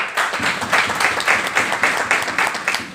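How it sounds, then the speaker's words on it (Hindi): A crowd claps in a steady rhythmic applause, many hands together at close range, beating evenly for a few seconds. "एक बार आप सबके लिए तालियां हो जाए"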